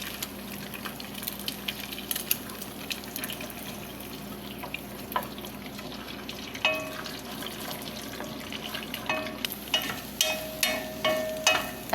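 An egg frying in cooking oil in a pan sizzles and crackles steadily, with sharper spits and pops growing more frequent toward the end, close and moderately loud.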